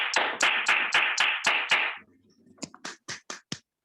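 An audience at a business team meeting claps for an honoured guest: a burst of rhythmic, unison claps, then a short lull and a few sharper, separate claps that trail off, close and loud.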